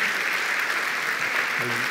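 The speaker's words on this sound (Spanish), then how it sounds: "Adelante, con un aplauso para estas dos personas." A church congregation applauds during a pastor's sermon, a continuous dense roar of clapping throughout, with a brief voice rising underneath near the end.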